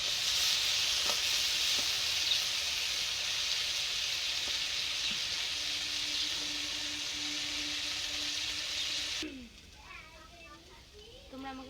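Food sizzles and fries steadily over a clay stove in cold winter weather, a loud continuous hiss lasting most of the time before cutting off abruptly, followed by quieter sounds and a voice speaking.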